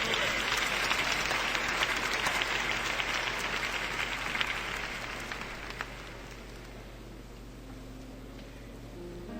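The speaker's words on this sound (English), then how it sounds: "clap your hands and give the Lord some praise" A church congregation with a mass gospel choir claps together, a dense, sustained roar of many hands that fades gradually toward the end, with a faint murmur of voices underneath.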